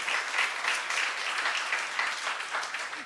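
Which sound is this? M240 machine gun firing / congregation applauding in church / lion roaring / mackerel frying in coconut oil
congregation applauding in church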